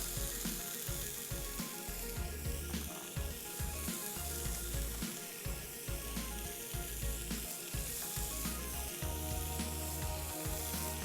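Steak searing in a hot pan alongside vegetables, a loud, dense, continuous sizzle with crackling pops close by, no voices.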